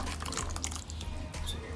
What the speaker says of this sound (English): Then add the corn flour water to adjust the thickening of the soup.